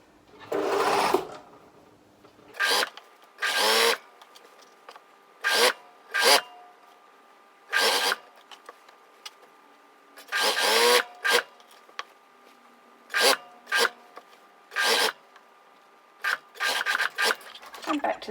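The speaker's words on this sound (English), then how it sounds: "I'm just going to sew the whole way round following that purple stitching line" A sewing machine stitches see-through fabric for a Maisie dress, running in about a dozen short, loud bursts separated by brief pauses as it follows the stitching line around the garment.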